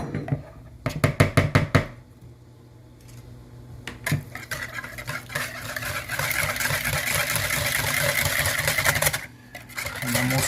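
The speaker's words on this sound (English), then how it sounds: "then we're going to whisk it" Salad dressing with salt and pepper is whisked in a bowl for macaroni salad: a quick burst of rapid clicking strokes, then a long steady run of scraping and whirring.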